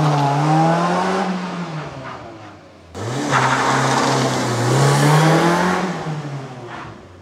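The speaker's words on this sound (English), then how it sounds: "Fully launch mode enabled, front's dropping, cheetah starts mode, and go. And it's off." A BMW i4 M50 and a Tesla Model 3, both electric cars, launch hard from a standstill in a 0-30 mph street race. Loud, rising motor whines sweep upward over tire and road rush, and a second surge begins midway.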